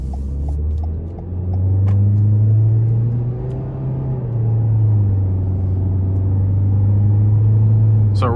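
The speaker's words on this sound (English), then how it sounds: "I love the beefy sound from the engine and the transmission" Engine and transmission of a 2021 Toyota Corolla SE APEX during an on-road test drive: a loud, steady low drone that rises and eases as the car accelerates, heard from inside the cabin with no talk.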